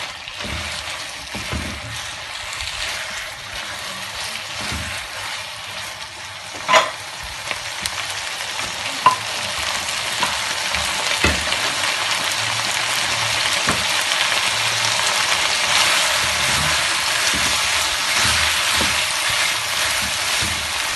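Chicken jalfrezi cooks in a pan with a constant, loud sizzle that swells slightly over time, punctuated by a few sharp utensil clanks and stirring scrapes.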